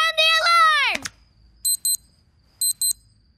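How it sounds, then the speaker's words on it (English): A cartoon alarm sound effect from Gumball: a rising, swooping siren-like wail, then two pairs of sharp electronic beeps, loud and clear against near silence. "Sound the alarm!"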